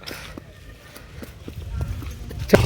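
Rhythmic hoofbeats of a horse carrying a child rider clop on hard ground in Munnar, growing louder as they approach, with faint voices in the background.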